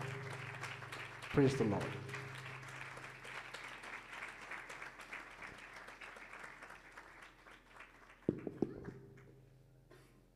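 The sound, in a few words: congregation applause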